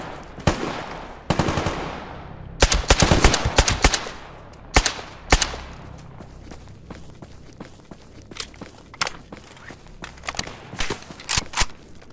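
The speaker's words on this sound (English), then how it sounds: "gotta move, because I'm still getting shot at." Gunfire in the video game Stalker Gamma: repeated sharp shots and short automatic bursts, some close and loud, others more distant, spread irregularly through the stretch with faint movement sounds between them.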